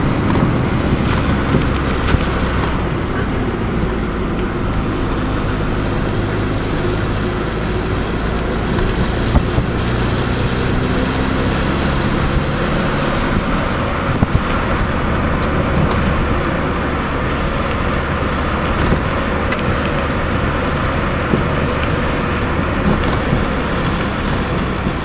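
A car driving near Lake Alma State Park gives a steady road and engine rumble with wind noise, continuous and fairly loud from inside the vehicle, no talk.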